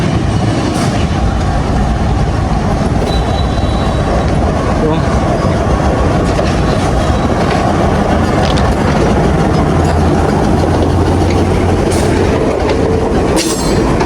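A loud, close railway locomotive rumbles past continuously near a level crossing, with heavy rolling noise, rattling wheels and brief metallic squeals; a voice talks over it.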